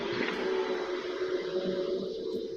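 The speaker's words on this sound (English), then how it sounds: "The vacuum cleaner sounds like he's actually doing something" A vacuum cleaner runs steadily in the background, a continuous loud motor whine and airflow hiss held without pause through the whole stretch.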